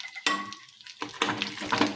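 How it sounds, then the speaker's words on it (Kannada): Dry fruits frying in ghee in a small kadai sizzle in short bursts, with a few soft clinks and scrapes of a utensil stirring against the pan, close and fairly quiet. "ಇದಕ್ಕೊಂದು ಸ್ವಲ್ಪ ತುಪ್ಪ ಹಾಕಿ ಡ್ರೈ ಫ್ರೂಟ್ಸನ್ನ ಹುರಿತೀನಿ ನೋಡ್ರಿ"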